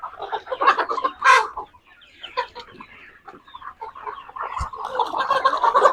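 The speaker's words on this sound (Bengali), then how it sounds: "এই মুরগি লাফালাফি করিস না" Chicken clucking and squawking up close, with bursts of agitated calls and wing flapping coming in uneven clusters that grow busier toward the end.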